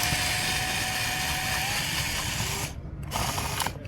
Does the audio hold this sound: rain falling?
no